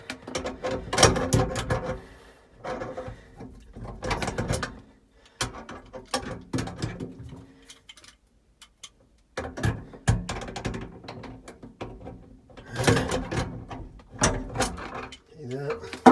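Half-inch ratchet tightening the mounting nut of a Delta kitchen sink faucet, bursts of close clicking strokes separated by pauses, with a person talking between them.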